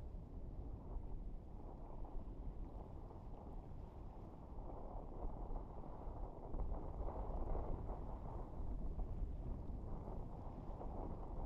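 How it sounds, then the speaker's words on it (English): A SpaceX Falcon 9 rocket lifting off from pad 40 on the Starlink 5-10 mission, heard as a deep, continuous low rumble of engine roar with wind-like buffeting, steady and swelling slightly midway. "Engine ignition and liftoff of SpaceX's Falcon 9 rocket on the Starlink"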